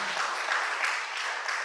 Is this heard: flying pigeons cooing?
no